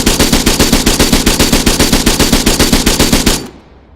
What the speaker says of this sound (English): It's an MMG, medium machine gun, marksman machine gun.